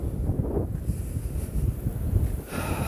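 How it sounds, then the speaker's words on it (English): Strong wind at Sutro Heights buffeting the microphone outdoors, a continuous low rumbling roar with gusty swells throughout. "It's so windy out there"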